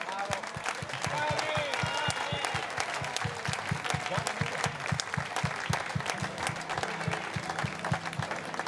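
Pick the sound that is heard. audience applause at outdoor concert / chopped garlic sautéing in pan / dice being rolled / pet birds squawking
audience applause at outdoor concert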